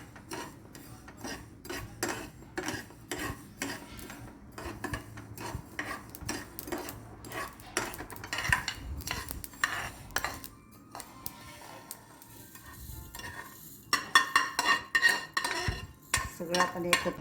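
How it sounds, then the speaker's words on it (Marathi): Mustard seeds roast dry in a pan for green chilli pickle, and a metal spoon scrapes and taps against it in an irregular rhythm, with faint crackling behind, fairly quiet. "राई थोडी भाजून घेऊ."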